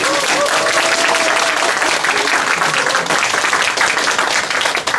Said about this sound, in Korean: 한 분 한 분 소개해드릴 때마다 뜨거운 박수로 환영해 주시기 부탁드리겠습니다.